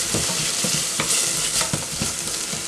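Onions fry in a very hot pan with a steady bright sizzle, broken by repeated soft scraping strokes as they are stirred.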